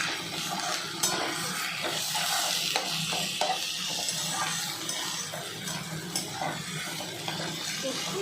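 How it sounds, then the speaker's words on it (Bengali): Onions frying in a pan, a soft continuous sizzle with light stirring and occasional scraping of a utensil against the pan. "পেঁয়াজটা আমি ভাজতে একটু লাল লাল করে ভাজবো।"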